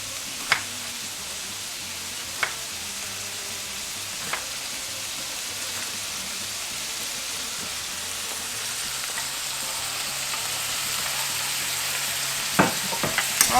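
Pork strips with garlic, onions and peppers stir-frying in a pan, giving a continuous even sizzle and hiss, with a few sharp clicks and taps of a utensil.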